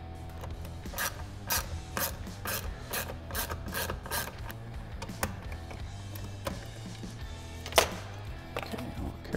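A T20 Torx screw is backed out of a C8 Corvette steering wheel, a quiet series of rhythmic rasping ratchet clicks close by, pausing and then resuming with a brief louder click near the end.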